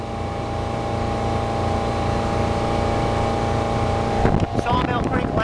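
Steady engine drone and wind buffeting from a 1997 Bayliner 1950 Capri bowrider motorboat cruising along, holding an even tone until a voice cuts in for the last second.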